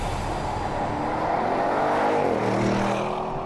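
An Audi RS7 Sportback engine growls at high revs, loud and close, with a continuous rumble whose pitch dips and shifts toward the end; no voices are heard.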